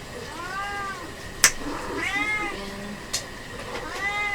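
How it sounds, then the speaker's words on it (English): A domestic cat meows several times in drawn-out, wavering calls, close and fairly clear against a low room hum, with a couple of sharp clicks between the calls. "Sorry about the cat, guys."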